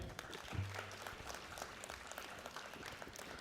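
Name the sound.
audience applause for a presenter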